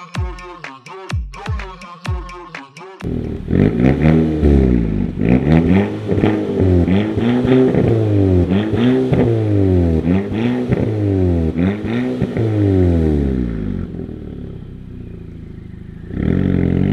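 An Audi TT with a tuned exhaust system blips its engine in a few quick revs, then holds long rising and falling revs with a deep, raspy exhaust note, loud and close, before easing off near the end.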